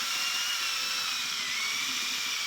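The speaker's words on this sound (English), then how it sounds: "I'm using my drill now because if you remember on my previous video I broke my food mixer" A power drill whirs continuously while mixing a casting mixture for a lead figure mould, a steady, fairly close high-pitched motor whine with no talk.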